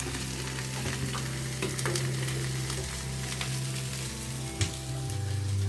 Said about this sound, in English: Sausages and onions, and we're going to have some mashed potato